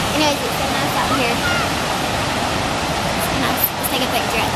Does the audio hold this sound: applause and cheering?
no